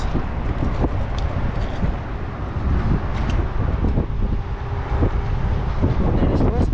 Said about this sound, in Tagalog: Malakas ang hangin ngayon sa dagat.